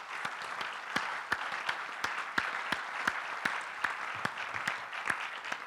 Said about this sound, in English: let's give both of our candidates a round of applause